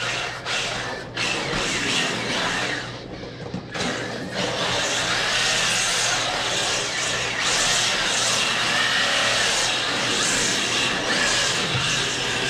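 A rear-wheel-drive drift RC car runs on a small mini track, its electric motor giving a steady, loud, ratcheting mechanical whine throughout with brief dips as it turns and slides.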